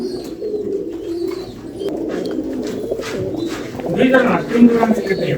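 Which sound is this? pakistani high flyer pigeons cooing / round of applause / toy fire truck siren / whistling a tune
pakistani high flyer pigeons cooing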